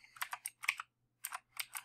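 Computer keyboard keys clatter in quick bursts of typing as contact details are entered, separated by brief pauses, close and quiet with no talking.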